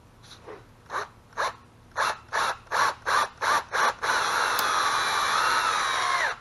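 A power drill bores into a broken lead battery terminal stud, starting with eight short, even bursts and then settling into one continuous whirring run, close and fairly loud.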